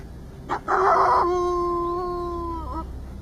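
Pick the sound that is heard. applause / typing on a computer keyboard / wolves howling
wolves howling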